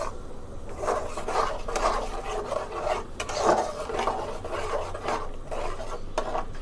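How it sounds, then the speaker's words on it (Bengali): Spices with bay leaves, cinnamon, cardamom and onion paste stirred in a pan for a raw jackfruit and shrimp curry, a repeated rasping scrape of a spatula against the pan bottom, moderately close and fairly steady. "এটা একটু ভালো করে কষাবো।"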